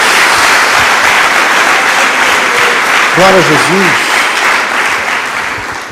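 A church congregation applauding for Jesus during a worship service, a loud continuous wall of clapping filling the hall while a voice calls out praise over it.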